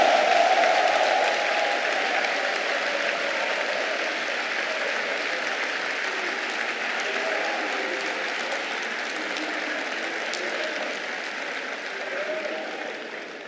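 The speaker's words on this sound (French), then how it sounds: "je veux vous entendre dire par des acclamations nourries que vous êtes prêts" Delegates at an extraordinary PDCI-RDA party congress cheer and applaud the newly elected president, a steady wash of crowd clapping and acclamation sustained for several seconds, gradually easing a little.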